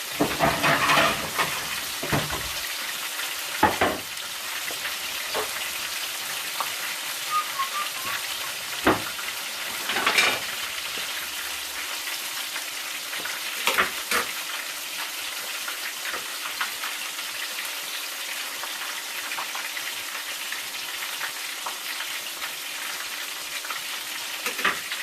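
Panko-coated shrimp fry in hot oil with a steady, dense sizzle and crackle that holds throughout, broken by occasional sharper pops and spits; no voices.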